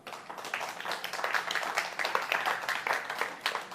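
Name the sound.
audience applause in church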